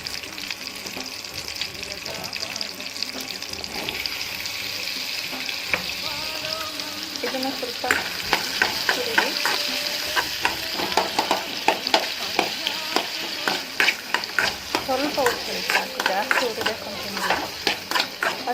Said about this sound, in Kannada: ನೀವು ಒಂಚೂರು ಆಯಲ್ ಹಾಕ್ಕೊಂಡು ಹುರಿಬೇಕು